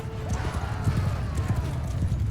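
Horse hooves clip-clop in quick, steady rhythm in the game Mount & Blade II Bannerlord, close and continuous, with a faint whinny and soft battle ambience underneath.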